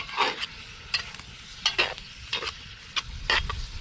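Food cooking in a Dutch oven over a campfire, stirred in a few scraping bursts over a faint, continuous sizzle, close by and without speech.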